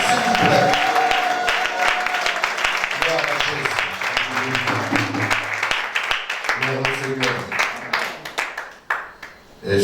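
A church congregation applauds in a dense burst of clapping, mixed with voices calling out, and the clapping thins toward the end.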